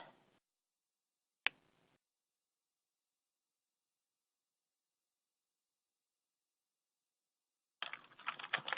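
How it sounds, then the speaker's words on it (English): A few short bursts of computer keyboard clicking separated by a long silence, with a brief flurry at the start and a busier run of keystrokes at the end. "so I'm typing into the group chat box"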